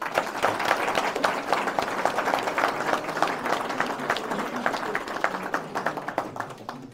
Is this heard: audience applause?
yes